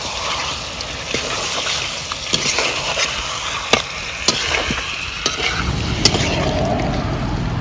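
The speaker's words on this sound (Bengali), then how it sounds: "এবার চিকেনটা ভালো করে কষে নেব।" Fried chicken and potato pieces stirred in a spicy masala for a mango chicken curry, with a steady sizzle, a spatula scraping and clacking against the pan, and a continuous frying hiss throughout.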